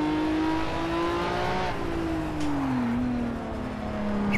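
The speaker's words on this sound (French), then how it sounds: "elle a quand même un bruit magnifique, le claquement de l'échappement là" Ferrari 812 engine in the Project Cars VR racing game, a steady sustained drone that rises and falls in pitch with revs, loud and continuous with faint exhaust crackle and no talking.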